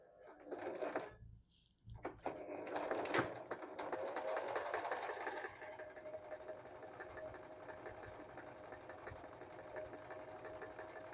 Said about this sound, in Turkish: Ve dikmeye başlıyorum.